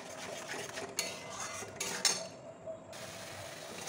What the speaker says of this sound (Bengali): আরেকটু নেড়ে নেবো